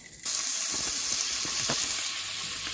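Lardons and ham fry in a pan with a sudden, steady bright sizzle that starts after a brief quiet moment, along with light stirring clicks, close and continuous.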